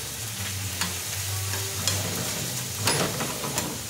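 Chicken sautéing with garlic and onion in a hot pan, a steady close sizzle and frying hiss with occasional stirring scrapes, no voices over it.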